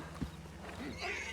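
Horses in the WildRP roleplay video game neigh and whinny faintly, with soft clip-clop hoofbeats and a low steady background hum.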